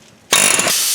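An air hammer starts abruptly on the axle shaft of a Chevy Trailblazer during front lower control arm work, a loud, sustained rapid pneumatic rattle after a brief quiet moment.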